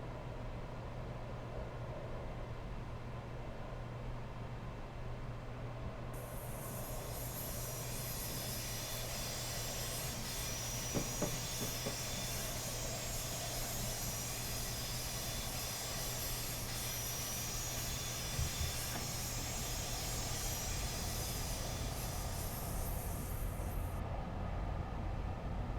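A train in Train Simulator 2019 pulls away under throttle: a steady low engine drone and rail rumble with a faint high hiss laid over the middle, fairly quiet and uninterrupted.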